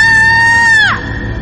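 A woman screams in fright during a horror story set in a haunted hotel, one loud, high, sustained shriek that breaks off sharply after about a second, close to the listener.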